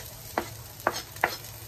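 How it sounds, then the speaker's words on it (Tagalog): Onion sautéing in a pan for chop suey, a steady low sizzle broken by three distinct scraping strokes of a stirring utensil spaced about half a second apart. "So una ko pong gagawin is ang saute ng onion"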